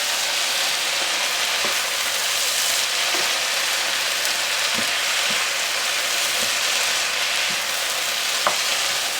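Mushrooms fry in a pan with a dense, steady sizzle while a utensil stirs them, making faint scattered taps and scrapes against the pan bottom.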